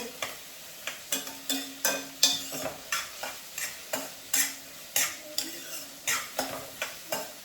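Onions and green chillies roasting in a pan, stirred with a utensil in a steady rhythm of about two scrapes per second over a constant sizzle, close and clear with no talking.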